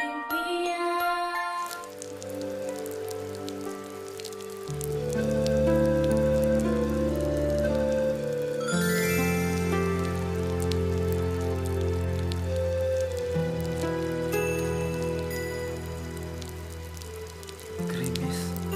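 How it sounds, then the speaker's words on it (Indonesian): Light drizzle patters softly and continuously under a sustained, swelling musical score that carries on throughout. "Bapak mendengar rintik hujan."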